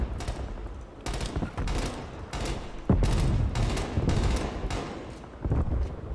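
Rifle and machine-gun fire in the shooter game Call of Duty Cold War comes in repeated loud bursts and volleys, a few seconds apart, with brief lulls between them.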